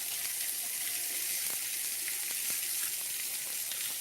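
Sweet onion frying in a pan in a home kitchen, a steady, even hiss of sizzling oil throughout with faint scattered pops, close and continuous with no talking.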